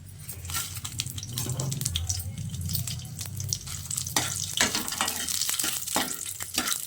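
Dried red chillies frying in a spoonful of hot oil, an uneven crackling sizzle with stirring scrapes and sharp pops, close and fairly quiet.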